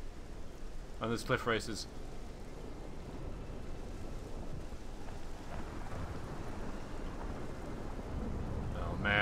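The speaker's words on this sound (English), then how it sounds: "It is still raining." Steady rain with low thunder rumbling through a Morrowind storm, a continuous wash of noise with a brief voice speaking early on over the downpour.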